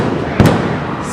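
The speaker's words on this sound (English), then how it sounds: "stun grenades have now just gone off" A stun grenade goes off at a street protest where bottles and missiles are being thrown: one sharp, loud bang cuts through a constant crowd roar.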